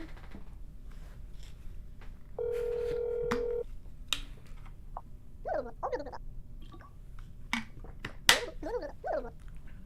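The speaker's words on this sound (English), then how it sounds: "Call the apartment." A phone dials in the horror game That's Not My Neighbor, with a steady tone lasting about a second, followed by sharp clicks and short animal-like yelps. All of it is fairly quiet.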